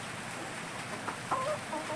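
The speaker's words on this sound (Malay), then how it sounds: "Ni adalah ayam penelok Hybrid" Hybrid Longman Brown laying hens in a rainy garden coop, clucking softly in a few short calls that sit faint under steady rain hiss.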